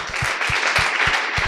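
Conference audience at DAPPCON 2019 applauding speaker Ethan Bennett after his talk on finance on Ethereum: steady, close crowd clapping with a few heavier, rhythmic claps standing out near the microphone.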